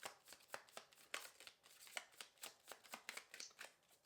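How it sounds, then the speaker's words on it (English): Tarot cards being shuffled by hand: a close, quiet riffling with repeated soft bursts of papery flutter and taps in an uneven rhythm, with no voice. "Okay, one more shuffle."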